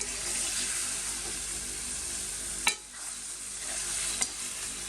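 Chakalaka being stirred and mixed in a pan, a steady sizzling frying hiss with soft scraping stirs and a couple of sharp utensil knocks against the pan, close and continuous with no talking.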